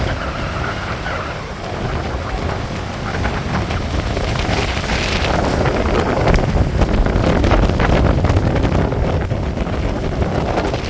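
Strong wind gusts across the seashore, with a steady, loud roaring rush of air buffeting the microphone from start to finish and no voices.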